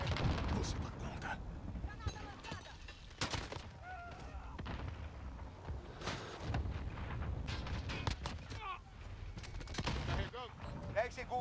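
RPG and grenade blasts in Call of Duty: Modern Warfare (2019), heavy booms and sharp gunshots erupting repeatedly through a chaotic firefight, with in-game voices shouting over the noise.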